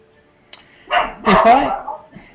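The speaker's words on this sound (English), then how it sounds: "There's my dog again." A dog barks a few times indoors, close and fairly loud, a short yip followed by two longer, rougher barks that trail off, with quiet room tone between.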